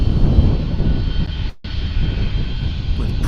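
A 30-year-old airliner with Pratt & Whitney engines, formerly flown by LTU Airlines, roaring loudly and steadily close by at DFW Airport, a deep continuous engine rumble with a brief dropout midway.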